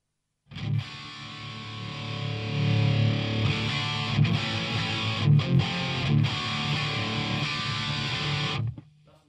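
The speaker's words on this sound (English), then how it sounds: "That's on the crunch channel." Electric guitar played through a Jet City JCA50H amp on its crunch channel, a sustained, driven, distorted tone ringing loud and steady for several seconds, with brief dips between strummed chords before it cuts off.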